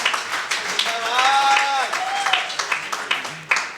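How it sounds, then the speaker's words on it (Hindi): An audience claps at a Hindi kavi sammelan poetry recital, with scattered, uneven bursts running under voices and whistle-like tones. "बजाओ ताली।"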